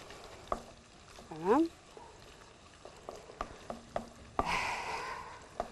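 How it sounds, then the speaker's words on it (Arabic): Spiced sausage sizzles in a frying pan while being stirred, with scraping utensil knocks, a brief squeaky tone and a burst of louder frying hiss near the end; a voice speaks briefly. "نقعد نقلب تنزل بس الريحه عشان نسمع صوت التش بتاعتها"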